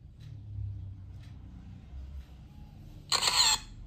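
A single short, bright phone camera shutter click, triggered remotely from an Advan S2 Pro smartwatch, rings out near the end over a quiet low rumble.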